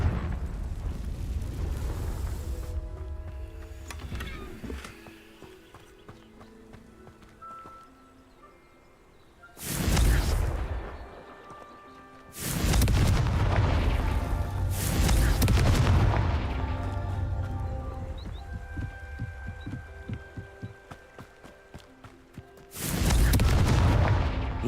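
Confringo fire spell explosions in Hogwarts Legacy, with several loud booming blasts bursting out one after another over a lower background rumble of gameplay sound and music.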